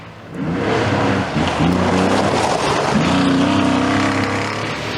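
A Porsche 911 rally car on a historic forest stage, its engine droning loud and close with rising harmonic shifts as it accelerates through gears, no voices.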